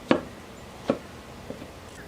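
Three soft knife chops land on a cutting board as a dragon fruit is cut, spaced unevenly, quiet and close with nothing else around them.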